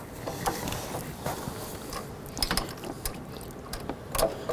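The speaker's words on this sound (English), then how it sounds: "I'm going to go ahead and get the bolt started." A bolt is threaded by hand into the belt tensioner of a 2007-11 Honda Civic during a water pump replacement, giving soft, irregular metallic clicks and ratcheting ticks up close, with a couple of sharper knocks and no talking.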